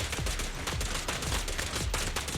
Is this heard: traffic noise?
no